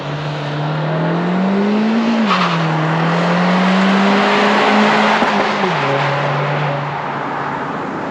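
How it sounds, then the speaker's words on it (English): A 2022 Honda Civic Si with a true dual exhaust heard from outside, a loud, sustained engine drone holding a fairly steady pitch, briefly rising and then dipping, with no talking. "Honda says they really fixed the exhaust noise on the new SI because of that true dual exhaust system"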